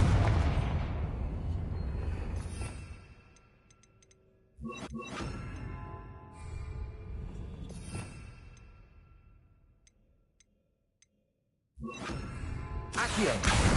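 A Confringo fire spell explodes in Hogwarts Legacy with loud booming blasts and whooshes, which fade into quiet stretches before another burst erupts.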